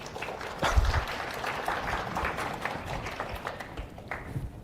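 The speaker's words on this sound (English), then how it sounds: "Please give him a round of applause" Audience applause for a physician after a medical talk on kidney disease and anemia, a steady wash of clapping from a room of listeners, moderately quiet and sustained throughout without talk.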